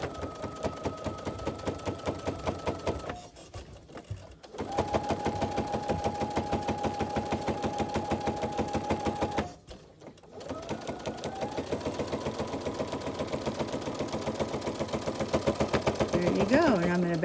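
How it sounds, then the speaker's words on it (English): A sewing machine stitching quilt sashing in a quilt-as-you-go project, running a fast steady rattle that stops briefly twice before resuming, close and continuous throughout. "I'm going to back stitch just a couple and go forward"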